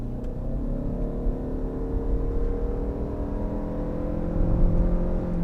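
A 2020 Ford Escape Hybrid pulling away from a standstill, its engine drone and whine rising steadily from inside the cabin, continuous and moderately loud with no talking.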